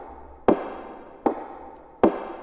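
A percussion loop in an FL Studio pop ballad plays three evenly spaced, sharp knock-like hits, each with a short roomy tail, alone and moderately quiet.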